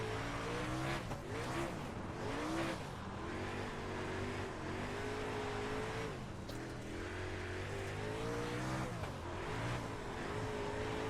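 A late model dirt race car driven in the iRacing sim, engine droning and rising and falling in pitch steadily throughout, with loud continuous revving and tyre noise and no talk.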